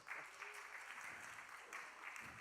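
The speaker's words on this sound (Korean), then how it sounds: "박수로 맞이하겠습니다." Brief burst of applause from a church congregation at a Sunday young-adult worship service welcoming another member to the front, a soft, even patter of many hands heard at a distance.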